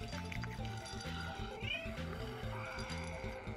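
A cat meows in the zombie video game Dead Island 2, a short mewing call heard over dense, loud game music and background sound.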